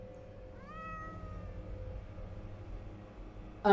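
A cat meows once in The Excavation of Hob's Barrow, a single rising-then-falling mew heard fairly clearly over a low ambient hum, followed by a brief sharp knock at the very end.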